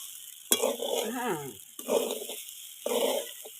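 Green vegetables stirred in a pan at home, a few rough scraping and shuffling bursts separated by short pauses, close and moderately loud, with a faint hiss underneath.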